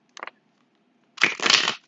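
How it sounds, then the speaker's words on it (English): A deck of playing cards is shuffled close up: a brief riffle, a pause, then a longer dense riffling burst, with no talk over it. "I'm going to shuffle on camera"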